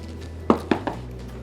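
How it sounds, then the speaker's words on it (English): Metal loaf pans being handled for pumpkin bread, giving three short clanks about a quarter second apart, the first loudest, close by over a low steady room hum. "Now we just need to grease 2 loaf pans."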